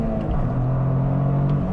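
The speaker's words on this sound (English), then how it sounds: "this 3-cylinder engine, I don't love the sound of it at times. However, right now, on full boil," A 2023 Toyota GR Corolla Circuit Edition's turbocharged three-cylinder engine howls at full throttle, a loud, steady, close drone with a rising harmonic tone and no talk over it.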